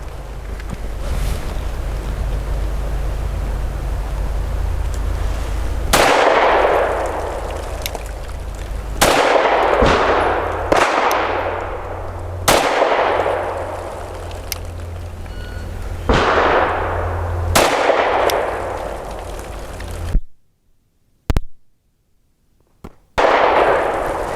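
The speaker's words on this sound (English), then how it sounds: "5 shots from 7 yards for accuracy at the right circle square." Mossberg MC2sc pistol fired at a target from 7 yards: several sharp, loud close reports spaced a second or two apart, each with a ringing decay, over steady outdoor wind noise, ending with a near-silent pause and one last shot.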